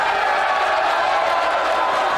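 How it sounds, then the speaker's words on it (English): A crowd at a wrestling event in Hartford, Connecticut cheers and roars in a dense, steady wash as wrestler Elayna Black is welcomed. "receiving a rousing reception from the crowd"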